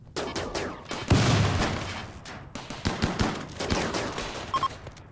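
Automatic turrets in the RimWorld video game open fire on raiders, a dense burst of rapid gunfire that swells and then continues in scattered volleys of sharp shots.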